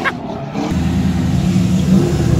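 Drift car at a Baja California drifting event revs hard, its engine rising from a brief near-silence into a loud, sustained roaring drone close by.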